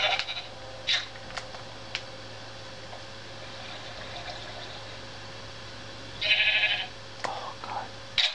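Sheep bleating in a Minecraft cave, Xbox 360 Edition, a few short nasal bleats spaced across a quiet stretch with faint game ambience and a steady low tone underneath.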